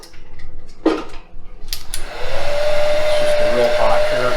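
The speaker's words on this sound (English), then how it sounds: "I also have a heat gun, like a heat dryer, which is nice on open bay stuff" A heat gun used in a model airplane workshop to shrink covering film on a giant-scale model. After some light clatter, it starts with a loud, steady, close whirring blow of hot air that runs to the end.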